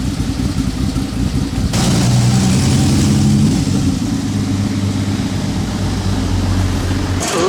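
A Ferrari V12 engine revs up and holds a loud, throaty roar with rising and steady tones, continuous and close throughout.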